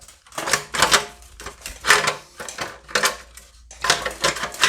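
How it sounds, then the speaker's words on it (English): A hand wrench removing a bolt on the intermediate shaft of a 2010-13 Acura MDX, heard as a series of sharp metallic clicks and ratcheting clanks in irregular bursts, close up, with no talking. "Looks like this last one on the bottom I'm going to need to wrench out."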